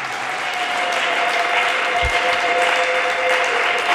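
A church congregation claps loudly and continuously, a dense, even wash of applause with a steady tone ringing underneath.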